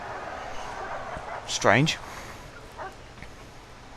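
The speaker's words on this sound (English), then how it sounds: "There's a dog that's just randomly running through by itself." A dog in the Prison Architect game gives a brief yelping bark, then a faint second yip, heard over a quiet background with someone speaking briefly.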